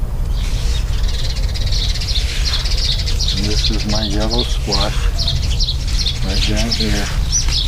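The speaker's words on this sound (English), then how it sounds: "I can hear the birds are tweeting." Birds tweet steadily in a home garden with container vegetables, repeated high chirps continuing at moderate volume while a person talks over them.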